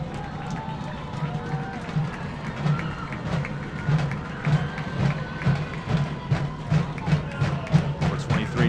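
A high school football crowd at a South Lake vs St. Clair game cheers and murmurs in a broad, distant wash during the kickoff, with a commentator talking over it.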